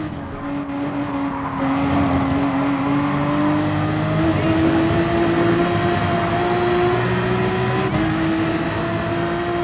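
Race car engines in the GT Sport racing game, a steady loud drone with rising and sliding tones, the driver backing off the throttle while slipstreaming behind a rival car, continuous with no talk.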